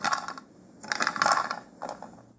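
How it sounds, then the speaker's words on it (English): Several quick clacking and clattering bursts of tiles falling off a wall and knocking together, close by, with short pauses between clusters. "that clacking sound you heard are tiles falling off the wall as he takes the glove off"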